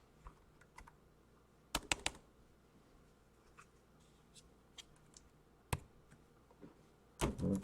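An HP EliteBook 850 laptop keyboard is typed on in a few scattered, crisp keystroke clusters, close and fairly quiet against a low room hum, with no talking.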